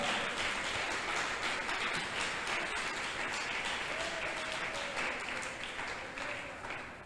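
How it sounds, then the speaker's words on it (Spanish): A church congregation applauds during a sermon, sustained clapping filling the room at a fairly even level before easing slightly toward the end. "Dele un aplauso al Rey de la Gloria"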